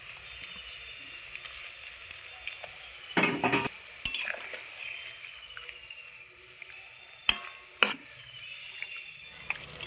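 Fried pointed gourd goes piece by piece into a boiling mustard gravy. Scattered soft splashes and clatters sound up close over a quiet bubbling simmer, with a few sharper knocks of utensils.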